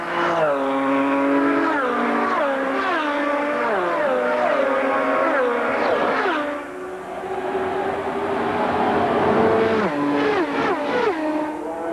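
Indy race cars at the 1993 Indianapolis 500 accelerate after a caution, loud overlapping engine whines rising in pitch as several cars pass close, with one sweep fading before another group roars through.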